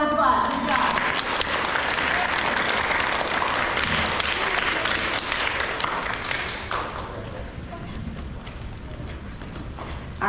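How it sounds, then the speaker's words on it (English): A crowd at an elementary school awards assembly claps for merit roll winners, a dense, sustained round of applause that gradually thins and softens toward the end. "Glenn, give them a round of applause."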